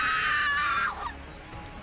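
A single person's scream, loud and high, lasting under a second before breaking off and fading into quieter background noise.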